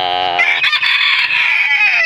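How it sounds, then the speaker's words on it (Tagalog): A red junglefowl rooster crows loudly and close, one long harsh cock-a-doodle-doo with a rising start and a drawn-out, strained ending. "At ito rin pala yung tandang na nahuli natin"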